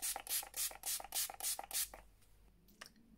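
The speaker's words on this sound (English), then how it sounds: "And then lastly, just taking my Makeup Obsession So Dope Fixing Spray." Six rapid bursts of fine mist from Makeup Obsession So Dope Fixing Spray hiss in quick succession, then a few softer taps and rustles follow in quiet.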